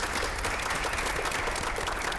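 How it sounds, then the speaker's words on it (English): Steady, dense applause fills a school district board meeting as a room of attendees claps continuously at moderate volume, with no voices breaking through. "Little applause."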